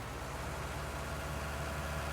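A 7920 tractor idling in Farming Simulator 19, a steady, even diesel rumble held at a constant level throughout, close and without any talk.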